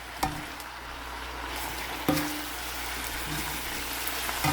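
Udon with tofu and vegetables being stirred in a pan, a soft background sizzle broken by a couple of clear utensil knocks and scraping strokes, no talking.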